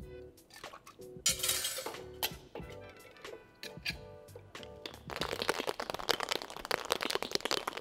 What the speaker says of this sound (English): And it's time to shake.